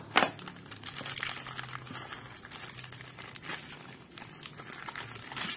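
A package of fish-food pellets is slit with a blade and torn open, with close, crinkly plastic rustling, crunching and scattered sharp tearing noises throughout.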